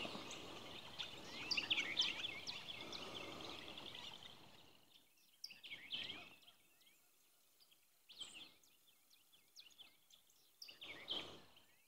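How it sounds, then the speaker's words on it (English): Birds chirp and sing outdoors on a rural property on a cloudy day, with frogs joining in; a dense chorus at first thins to scattered distant calls with quiet gaps between them. "Let's just listen to the birds for a minute."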